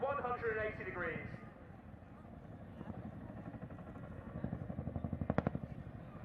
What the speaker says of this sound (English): the unmistakable sound of the Chinook's blade flap offered assurance to those on the ground